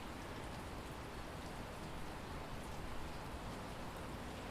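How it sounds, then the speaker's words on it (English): Steady, even rain pattering on outdoor surfaces in a backyard, a continuous soft hiss with no voices, heard from just inside an open screen door. "we cracked open the screen door to let the sounds of the rain in"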